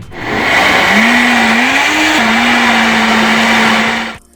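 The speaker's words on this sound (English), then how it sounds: "all nicely blended into a nice juice" Blender whirs through an organic smoothie with a loud, steady motor whine that rises in pitch, dips once, holds, then cuts off abruptly at the end.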